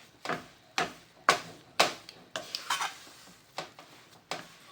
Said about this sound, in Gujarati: મિક્સર છે ને એકદમ ભેગું થઈ જાય ને ત્યાં સુધી આપણે ફેરવતું રહેવાનું છે